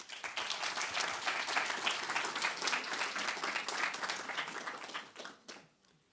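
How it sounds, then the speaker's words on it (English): A crowd applauds steadily for several seconds at an award ceremony, dense clapping at an even level before tapering off into quiet. "A big round of applause to everybody who presented their interesting research work at the poster session today."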